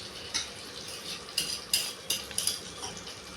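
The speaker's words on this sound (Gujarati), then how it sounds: "હવે એને આપણે હલાવી નાખવાનું છે." Oil is stirred in a pan with a metal spoon, a handful of sharp, close scraping clinks coming at irregular intervals over a quiet background.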